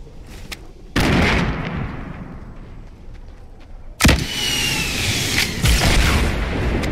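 A grenade going off in Fortnite: two loud, sudden blasts a few seconds apart, each followed by a long rumbling, noisy decay, with no voices.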